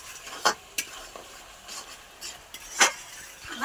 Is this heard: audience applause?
no